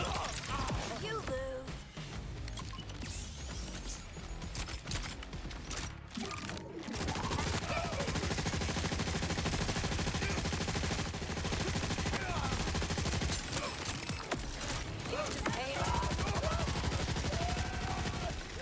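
Submachine gun fire in a video game, rapid bursts and repeated shots over continuous game noise, heavy and sustained through most of the stretch, with a voice talking at times.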